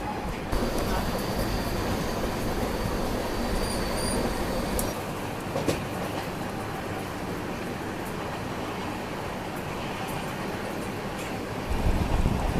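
Ranchi Rajdhani Express running through monsoon countryside in Jharkhand, a continuous broad rumble and rush of wheels and wind heard from aboard, with a brief whistle-like tone early on.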